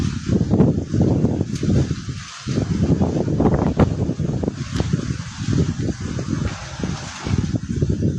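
Strong storm wind gusting in irregular buffeting bursts against the microphone, loud and close, with rustling mango trees swaying nearby.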